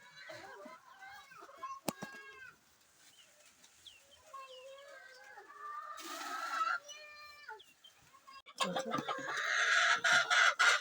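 Free-range hens on a poultry farm cluck and chatter repeatedly while feeding, several birds close by, with a rooster crow and a rising flurry of clucks toward the end; a voice speaks briefly among them.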